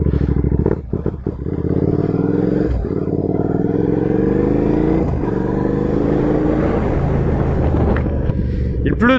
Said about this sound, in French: le son du pot d'échappement du coup